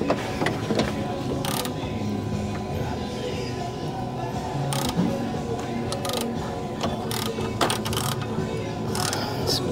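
A wrench turns the crankshaft of a Mazda Miata engine in neutral against compression during a timing belt and seal job, giving repeated ratcheting clicks and metallic ticks with steady mechanical noise and sharp knocks throughout.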